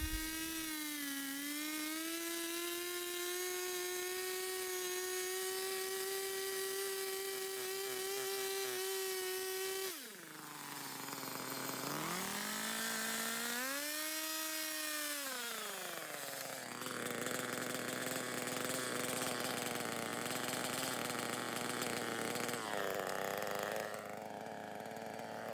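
A chainsaw cuts all the way through one side of a log, a loud, close engine snarl that holds steady, then drops and bogs as the chain bites into the wood before revving back up.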